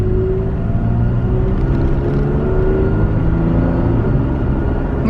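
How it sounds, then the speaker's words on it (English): A Toyota Tacoma's V6 drones loud and close from inside the cab while driving, a steady low rumble with rising harmonic tones as the engine pulls, with no talking over it. "look at the road, and hear the V6 roar"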